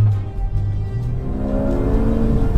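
A Porsche 911 GT2 RS engine revs hard toward 8300 rpm and climbs steadily in pitch, loud and close, with a rising harmonic whine and no voices.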